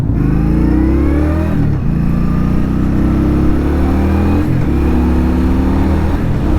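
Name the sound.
Indian Scout Bobber Twenty motorcycle engine riding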